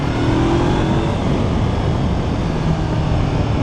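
A motorcycle accelerates hard in first gear, likely a twin-cylinder learner-legal naked bike such as a Honda CB500F, giving a loud, steady engine roar with heavy wind noise throughout.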